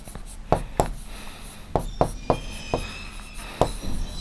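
Numbers being written by hand during a Class 6 maths lesson on integers: a handful of sharp, faint taps and scratches spaced irregularly, with a low background hum.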